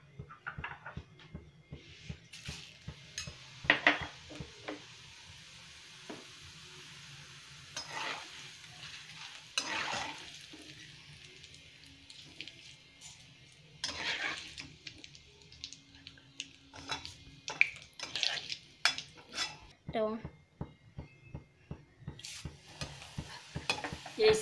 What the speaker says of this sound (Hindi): इसमें सबसे पहले हम पोहे को डीप फ्राई कर लेंगे।